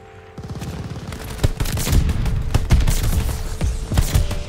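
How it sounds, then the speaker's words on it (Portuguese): Rapid bursts of unsilenced gunfire crack through a multiplayer shooter match, a dense, loud fusillade of repeated shots with a steady rhythm and no talking. "Só que tá fazendo barulho de arma sem silenciador ainda aqui."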